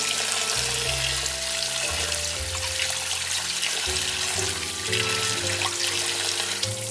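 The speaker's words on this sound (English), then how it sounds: "Now we need to clean our bones, so anything that's not white or beige needs to go." Pork bones for tonkotsu ramen broth are rinsed under a running kitchen tap: a steady, close rush of water splashing into a sink, shifting in tone as the bones are moved under the stream, with no voices.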